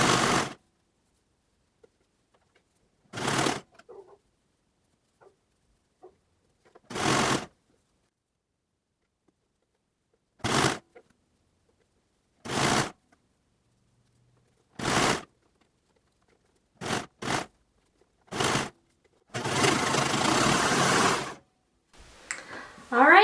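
A sewing machine stitches a lantern sleeve cuff onto a T-shirt in short separate bursts, with quiet pauses between runs and a longer, busier burst near the end.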